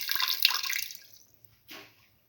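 Water poured from a container into a pressure cooker of garlic mung bean tamarind stew, a close splashing pour of about a second, then a brief second splash after a pause.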